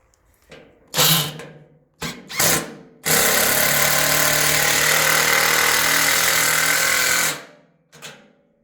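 A power drill drives Tek screws into a metal truss heel connection, first in two short bursts, then in one long, loud, steady run of about four seconds, followed by a brief final whirr.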